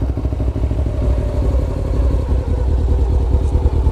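A motorcycle engine runs during a beginner riding lesson, a loud, close, continuous mid-pitched rumble with a pulsing, uneven beat and some mechanical clatter, no talking.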